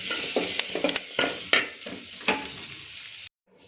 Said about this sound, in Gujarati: હવે આને થોડી વાર માટે હલાવી દઈશું